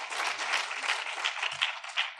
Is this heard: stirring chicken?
no